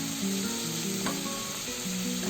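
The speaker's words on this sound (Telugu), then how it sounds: "ఇవన్నీ కొద్దిగా ఫ్రై చేసుకోవాలి." Vegetables for pesarapappu khichdi fry in a pan with a loud, steady, close sizzle and occasional stirring, with no talking.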